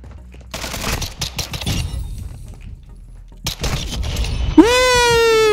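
Rapid gunfire from a fast-firing weapon in a video game: quick, sharp bursts of shots in two clusters, loud and close, separated by a quieter gap, followed by a sustained tonal electronic tone.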